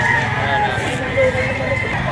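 A rooster crows at a busy chicken market in Lipa, Batangas, the call rising amid background bustle while someone talks loudly over it.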